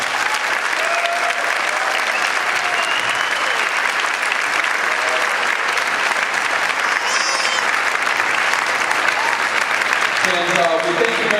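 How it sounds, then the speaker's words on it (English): An audience applauds after a school chorus concert, a dense, continuous wash of clapping throughout, with voices appearing faintly near the end. "one more round of applause"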